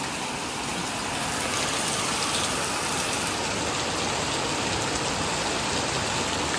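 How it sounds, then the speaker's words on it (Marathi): Rain falling outside during monsoon season, a dense, continuous hiss of heavy rainfall on surfaces, loud and even from start to finish with no voices. "आणि बाहेर अशा प्रकारे पाऊस पडतोय."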